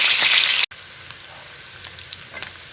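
Ingredients for soup sauté in a little cooking oil with a loud, crackling sizzle that drops away abruptly, then carries on as a quieter, steady frying hiss with scattered pops and no voices.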